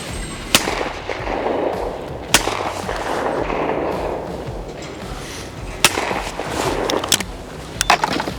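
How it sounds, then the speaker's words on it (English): Shotgun shots at sporting clay targets in report pairs, several sharp loud cracks spaced across the span, some in quick succession, over outdoor wind noise and no talking. "if I was just to shoot this the way I want to shoot it, let's try that"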